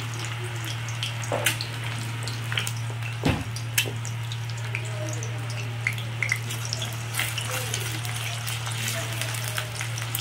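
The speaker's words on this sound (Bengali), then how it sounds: "দিয়ে একটু নাড়াচাড়া করে ডিমগুলিকে একদম ভুজিয়ার মতো করে নেব" Eggs with a little salt frying in a pan and being stirred into a scramble, a steady close sizzle with occasional scraping clicks of the utensil over a constant low hum.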